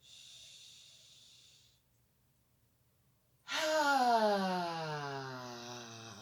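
Deep breathing during a shoulder shrug exercise: a soft hissing inhale, a pause of near silence, then a loud, long, close exhale that slowly fades.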